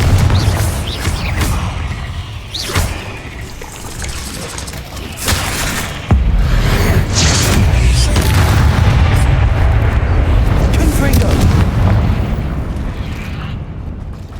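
Confringo blasting spell detonating in Hogwarts Legacy, heavy booming blasts and rumbling explosion roars filling the scene, loud and close with sustained low-end rumble.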